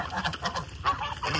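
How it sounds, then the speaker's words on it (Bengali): A chicken and a duck squabble on a farm of white geese and Chinese ducks, letting out a quick run of loud, nasal honking squawks close by, with no talking. "যে একটা পাশে একটা মুরগি আর হাঁস মারামারি করতেছে।"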